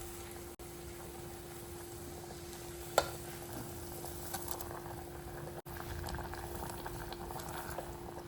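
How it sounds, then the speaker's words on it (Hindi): A pot of dal bubbles and simmers steadily at close range, a continuous soft gurgling with a couple of faint clicks, no voices. "तो this is our dal and इसे बॉईल होने देना है।"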